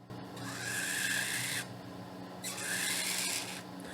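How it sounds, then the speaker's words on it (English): Quarter coin resting on dry ice, with particles striking it in two soft, hissing bursts of rasping noise at close range. "you can hear the particles smashing into the quarter before it starts to move."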